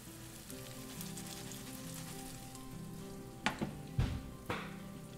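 Chicken tenders frying in olive oil give a steady close sizzle throughout, with a few louder crackles and clatters near the end.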